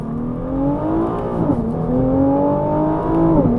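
A Nissan GT-R T-Spec engine revving hard, its deep droning note climbing steadily in pitch, dipping briefly midway and then rising again, loud and close with no voices over it.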